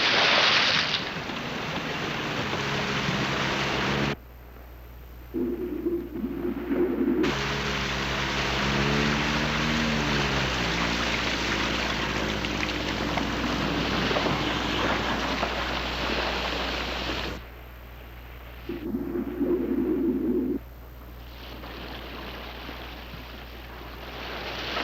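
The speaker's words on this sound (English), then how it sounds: "Then I heard an outboard." An outboard motor boat drones steadily at close range, a continuous broadband roar with a low engine hum underneath, broken by a few short dips and low tonal bursts, with no voices.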